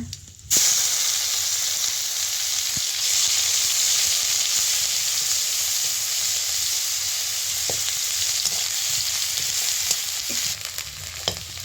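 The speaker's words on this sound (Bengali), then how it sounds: "এখন পেঁয়াজ দিয়ে লাল লাল হয়ে ভাজা হয়ে আসছে" Onion paste sizzles steadily in hot frying oil with five-spice seeds, a dense continuous hiss broken by a few soft utensil taps, close and loud, with no voices.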